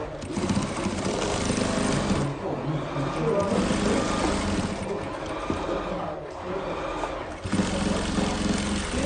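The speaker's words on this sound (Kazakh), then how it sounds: "Осылай қаратып бір-біріне жиегінен тігіп шығамыз." A sewing machine stitches the edges of a small decorative pillow, running in fast bursts with short pauses, heard close and fairly quiet alongside a woman's speech.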